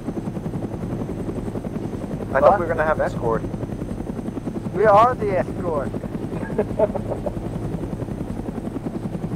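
Helicopters flying in the military game Arma 3, a steady rotor drone filling the background throughout while people talk over it in a voice chat.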